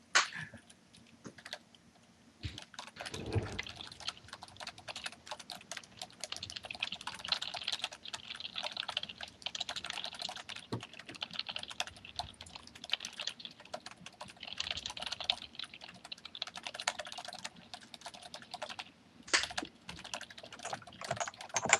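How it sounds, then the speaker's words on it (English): Fast, continuous clatter of typing on a computer keyboard during a tabletop role-play session, close and busy with brief pauses, with no talking. "typing so loud?"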